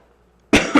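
Two quick, sharp coughs in close succession from one nearby person, loud against a near-silent background.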